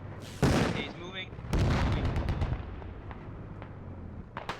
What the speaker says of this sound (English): Rocket got fired out there